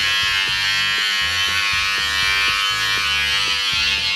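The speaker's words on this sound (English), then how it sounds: "take your razor, trimmer, kind of somewhat go down on it." An electric beard trimmer buzzes continuously and close up, its motor pitch wavering slightly as it cuts through a full, loose beard.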